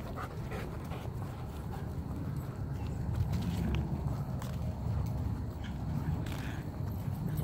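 Dogs, including a German Shepherd, pant heavily and rhythmically close by in the wilderness, mixed with paw steps and rustling outdoors.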